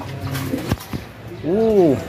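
Racing pigeons coo softly nearby, with a low rolling coo swelling near the end over faint background noise.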